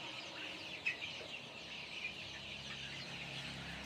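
About a hundred 25-day-old chickens in a pen cluck and chirp faintly and sporadically over a constant soft hiss.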